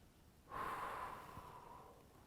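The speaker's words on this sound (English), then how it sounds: "In terms of the breathing here, I just give the breath out as I push out" A single forceful exhale while pushing out against a resistance band during training, a breathy rush that starts sharply and fades over about two seconds, close and fairly quiet.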